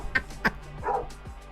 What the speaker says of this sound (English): And then the fucking dog, dude.